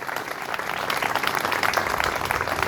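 Audience applause at an award ceremony for a koi show in France, a dense, even wash of clapping that swells slightly toward the end.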